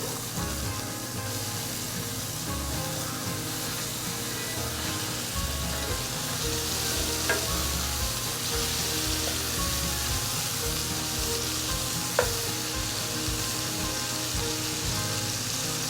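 Hamburger patties fry in a pan with an even, rain-like hiss of sizzling fat that holds steady throughout, with a couple of faint ticks and no talking.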